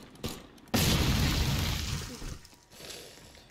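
A shot propane tank explodes in a Roblox destruction-physics game, a sudden loud synthetic boom that holds as a broad roaring wash for over a second before fading into lighter rumble.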